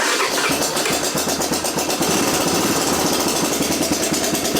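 A 1987 Honda TRX250 ATV engine idles with a loud, close, steady putter that runs without a break and without any voices over it.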